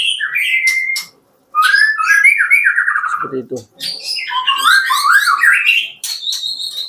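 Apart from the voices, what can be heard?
oriental magpie-robin (murai) singing loudly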